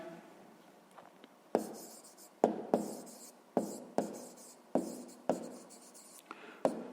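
A pen writes in a notebook during a sixth-grade maths exercise, with soft scratching strokes and repeated sharp taps as the pen touches down, close and quiet.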